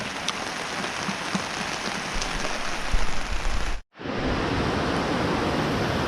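Heavy rain pours down with water running along a roadside, a loud continuous hiss and rush close by, cut by a brief dropout before the downpour resumes at full strength.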